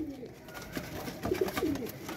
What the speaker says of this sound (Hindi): ये खड़ा हुआ कबूतर देखा